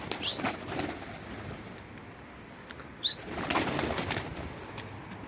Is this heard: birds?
yes